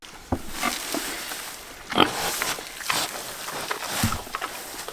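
Pigs on a farm feed on harvested grass, making close grunts and snorts at irregular intervals amid rustling and chewing, with occasional louder bursts.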